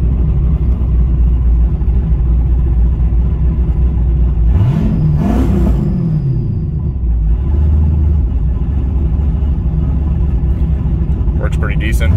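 A turbocharged LS engine in a Camaro running on a Terminator X controller, with a loud, steady rumbling idle and a brief rising and falling rev in the middle, heard close up.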